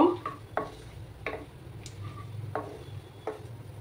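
Whole cumin seeds fry in hot oil in a pan, a faint sizzle broken by a few distinct stirring clinks and scrapes at irregular intervals, with little else around.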